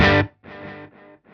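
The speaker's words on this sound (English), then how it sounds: "It's the Universal Audio Precision Delay." Short electric guitar chords through a Universal Audio Precision Delay and reverb, ringing out one after another, each trailing off with echoing repeats and a washy tail.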